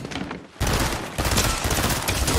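Fortnite shotgun fire in rapid succession, loud close blasts crowding together into a dense burst of gunfire after a brief quieter moment.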